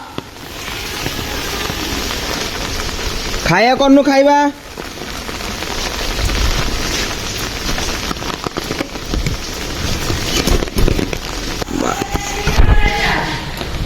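Heavy rain pours down steadily in a dense, constant hiss, while people talk over it and a voice briefly rises loudly.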